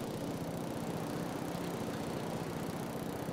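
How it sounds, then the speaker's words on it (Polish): A vehicle engine idles in a PS5 video game, a steady, even mid-low rumble holding at constant loudness from start to finish with no voices over it. "Odpalamy motor."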